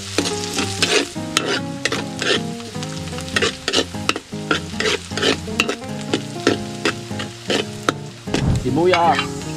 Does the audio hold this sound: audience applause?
no